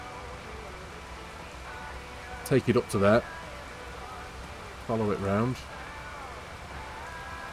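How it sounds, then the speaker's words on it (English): Steady rain in the Farming Simulator game falls on a Kentucky farm as an even, soft hiss that runs the whole time, while someone talks briefly twice over it. "But yeah, this rain has put a bit of a stopper on it."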